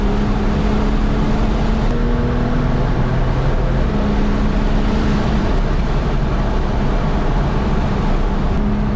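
A 3.8 engine of a car driving a winding mountain road on the Grand Mesa Scenic Byway toward De Beque, Colorado, producing a steady, loud, continuous drone with subtle pitch shifts as it pulls through turns, no voices.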